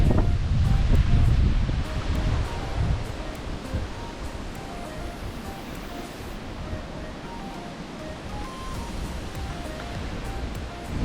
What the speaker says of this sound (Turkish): Rüzgar esmiyordu.